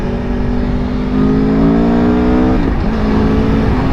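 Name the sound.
motorcycle riding on highway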